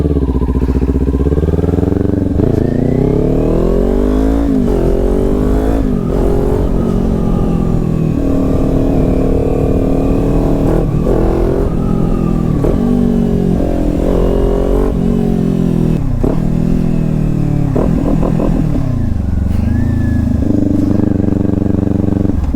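A Kawasaki Ninja 400 motorcycle engine revs repeatedly up and down close by, loud and continuous, with rising and falling pitch sweeps over a steady idle rumble.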